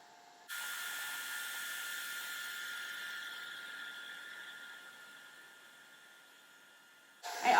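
A hair dryer switches on and blows a steady whirring hiss while it dries a clay coil pot on a turning wheel. The tone drifts slightly as it is moved lower, then a sharp clatter comes near the end.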